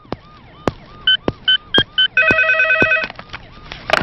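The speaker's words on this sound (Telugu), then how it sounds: "సార్, మీకు ఫోన్." An office telephone rings in a Telugu comedy film scene: short repeated electronic trills, then a longer sustained ringing burst, loud and close, with a few sharp clicks between.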